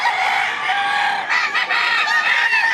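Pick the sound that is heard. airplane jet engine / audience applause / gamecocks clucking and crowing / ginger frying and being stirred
gamecocks clucking and crowing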